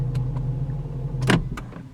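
A 2011 Infiniti M56x is switched off and its door locks release, with a few short mechanical clicks and one louder thunk over a low idle-like hum, close and brief.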